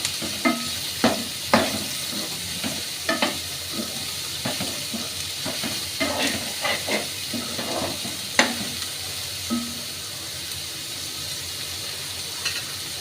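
Onions fry in a pan for an okra masala curry, giving a continuous sizzle and hiss. A utensil stirs them in scattered scrapes and taps, fairly close, with no talking.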